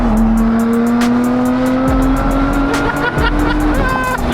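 A Lotus Emira GTR in track mode accelerates hard, its engine note climbing loud and close, with brief dips at gear changes before climbing again.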